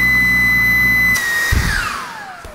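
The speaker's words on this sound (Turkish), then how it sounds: "Bir de hızlıca yüksek güç modunu deneyelim." A Xiaomi Mi G10 cordless stick vacuum runs loud and close in high power mode with a steady whining motor, then its pitch glides downward as the motor winds down.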